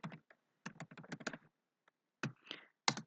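Someone types on a computer keyboard in a quick burst of clicking keystrokes, pauses, then strikes a few more keys, ending with a firm press of Enter; close and clear, with no speech.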